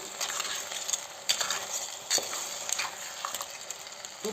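Crab with tomato and onion is stirred in a pan, giving a soft continuous sizzle with intermittent spoon scrapes and taps against the metal, close and moderately quiet.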